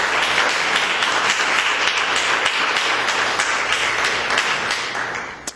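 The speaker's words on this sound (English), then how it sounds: "Do you give them a round of applause?" A lecture-hall audience gives a sustained round of applause, a dense, even wash of many hands clapping that holds steady and then tapers off near the end, with no voices over it.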